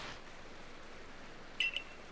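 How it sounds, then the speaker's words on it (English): A short electronic beep pattern from an incoming phone call in Pokémon Legends: Arceus, a brief double chirp standing out over a quiet game background. "I'm getting a phone call apparently."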